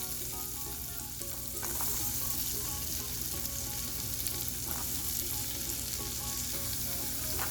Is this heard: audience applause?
no